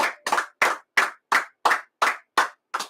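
Loud, close hand claps in an even beat, nine strikes spaced about a third of a second apart, crisp and isolated with silence between them.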